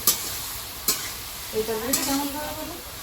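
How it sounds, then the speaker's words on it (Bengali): Fish caught from a pond frying in a pan, with a steady low sizzle, a few sharp clanks of a spatula stirring, and a voice briefly speaking near the end. "ভালো করে একটু ভেজে নিলাম এবার"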